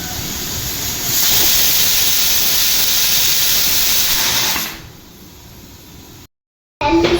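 Steam hisses loudly and steadily from a pot of pork stew with corn and beans cooking on a home stove, then drops to a softer hiss before a brief cut.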